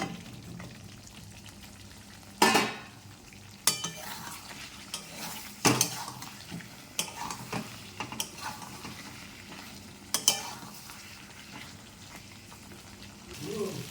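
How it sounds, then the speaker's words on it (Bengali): Potatoes fry in oil and cooked-down spice paste for Kashmiri aloo dum, a soft continuous sizzle broken by loud, sharp scrapes and knocks of a spoon stirring against the pan at irregular intervals. "কষানো হয়ে গেছে, তেল ছেড়ে দিয়েছে, এবার আমি আলুগুলো দিয়ে দেবো।"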